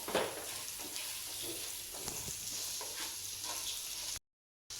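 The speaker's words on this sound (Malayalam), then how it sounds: "മഞ്ഞൾപ്പൊടി മാത്രം ഇട്ടിട്ട് വീണ്ടും നന്നായി ഇളക്കി കൊടുക്കുക" Vegetables frying in a pan with turmeric powder being stirred through, a steady close sizzle broken by scattered scraping strokes, ending in a brief dropout of silence.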